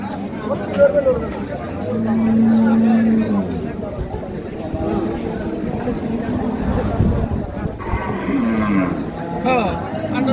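A dairy cow gives a long, low moo amid a noisy cattle market crowd at Ambari haat, with people talking and chattering all around and other lowing in the background.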